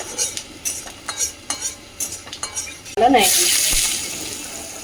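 Dry red chilli, cumin and nigella seeds hit hot mustard oil in a wok, bursting into a loud, bright sizzle that slowly settles. Scattered clinks and clattering of utensils come just before it.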